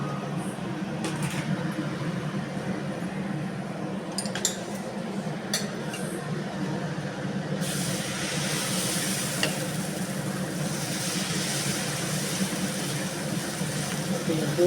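Moringa leaf dosa batter sizzles on a hot pan, a steady close hiss throughout with a few light clinks of a utensil, growing brighter partway through.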